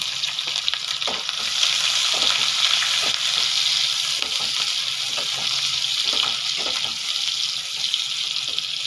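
Chopped onion and green chilies frying in oil with nigella seeds over low flame, a bright continuous sizzle close by, punctuated by regular scrapes and taps of a stirring spoon.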